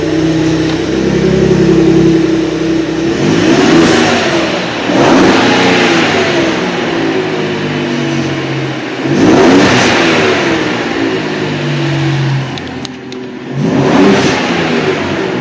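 A 2017 Ford F-150 Raptor pickup's supercharged 3.5-liter engine revs hard several times, each rev swelling and dropping back to a steady rumbling idle, loud and close.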